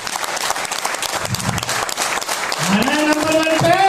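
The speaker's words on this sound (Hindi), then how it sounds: "ये जो आप तालियां बजा रहे हैं ना" Audience applause fills the hall throughout, a dense wash of clapping that swells toward the end while a voice speaks over it.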